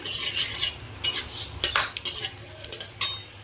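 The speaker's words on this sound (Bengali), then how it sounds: "সবগুলো দিয়ে একটু ভালো করে নেড়ে নেবো" A metal spoon scrapes and clinks against a pan while chicken with yogurt and spices is stirred, close and irregular, with quick knocks over a faint sizzle.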